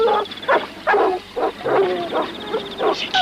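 Several dogs bark in a rapid, agitated string of sharp yaps and yips, close and loud, about eight bursts over a few seconds with a faint whimper, outdoors during a hunt.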